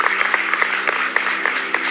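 An audience at a parish house inauguration claps steadily, a dense wash of many hands with sharper individual claps poking through, fairly close and sustained throughout.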